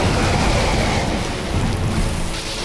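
Dark Souls thunderstorm: a steady, loud wash of rain and rolling thunder fills the whole stretch, dense and continuous with no talking.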